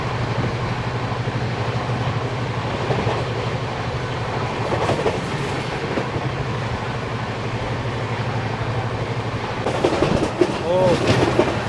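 A Vande Bharat express train running on rails, heard from inside as a steady, loud low rumble with faint rhythmic clicks, continuous throughout and rising slightly near the end.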